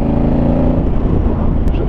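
A 2019 Honda Africa Twin motorcycle engine rumbles loudly and steadily while riding, a dense low drone under wind noise with no break.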